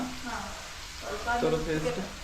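Food frying in a pan in a home kitchen, a soft steady sizzle running throughout while a person talks over it.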